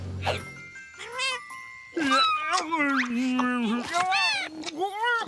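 Cartoon kittens meow in a quick series of high, squeaky, sing-song cries, several overlapping and close, some stretched into wavering wails, alone without other talk.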